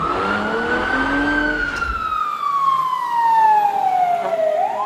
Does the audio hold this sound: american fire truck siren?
yes